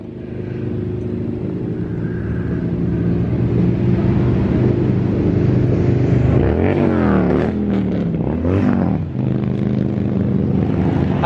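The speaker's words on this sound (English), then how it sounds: "How do you like those motorcycle sound effects?" A loud, steady engine drone with rising and falling revs, like a motorcycle passing close by on the Redwood Forest Highway in California, continuous throughout with no voices.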